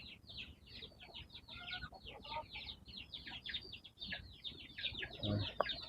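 Giant white chickens clucking in a yard, with a busy run of repeated, fairly close clucks and calls that continues throughout, while a faint low rumble sits underneath.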